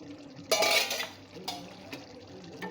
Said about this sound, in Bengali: তো ঢাকাটা খুলে আমি দেখে নেব।